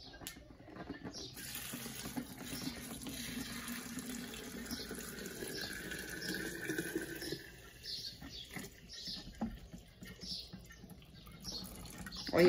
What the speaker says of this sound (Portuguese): Agora então vou colocar água quente.